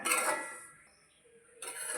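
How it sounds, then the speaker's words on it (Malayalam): A spoon scraping and stirring semolina roasting in a pan, in two bursts separated by a quiet pause, close and fairly soft. "റവ ഇട്ട് നന്നായി ഇളക്കി വറുത്തെടുക്കുക."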